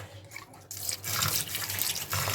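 Tap water runs steadily over grated snake gourd (chichinga) in a perforated plate, a close, continuous splashing rush that starts abruptly after a quiet moment.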